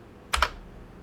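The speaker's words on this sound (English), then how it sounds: "let me just enter that real quick, and then once again we're going to hit enter" Two quick, close keystrokes clack on a computer keyboard in a quiet room, followed by silence.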